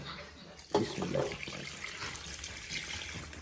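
Water poured from a half-kilo mug into a pot of white malai mutton gravy: a sudden splash starts the pour, then a softer steady trickle and gurgle continues, fairly faint.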